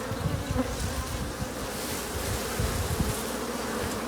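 A dense, steady buzzing of many honeybees in a production hive, close and continuous, with a low droning hum and scattered wing flutters throughout.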